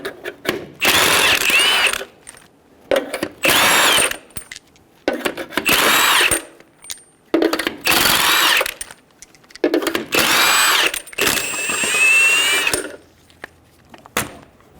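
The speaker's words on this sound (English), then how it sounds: "Using a 21mm socket, remove the 6 lug nuts." Power tool spinning a 21mm socket to remove the six front wheel lug nuts on a 2005-2010 Toyota Tacoma, repeated loud whirring bursts of about a second each, separated by short quiet gaps and faint mechanical clicks.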